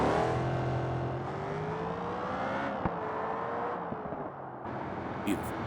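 A Toyota GR GT with a twin-turbo engine in BeamNG.drive hums along at a steady, fairly tame pitch that rises and falls gently, with a brief whoosh near the end.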